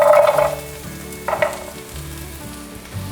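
Taro chunks go into a hot pan of stir-fried shiitake mushrooms for a vegan home-style dish, setting off a loud sizzle with stirring scrapes and a second burst of frying partway through, with no talking.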